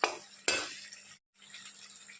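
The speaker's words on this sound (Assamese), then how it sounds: "এতিয়া মই এইখিনি ভাজি লৈছোঁ।" Vegetables and tomatoes frying in a pan give a soft, close sizzle, broken by two sharp spoon scrapes against the pan and a brief pause before the sizzling resumes.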